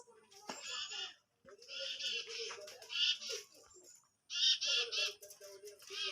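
Several birds squawk and chatter together in bursts of shrill, overlapping calls, close by, with short pauses between flurries.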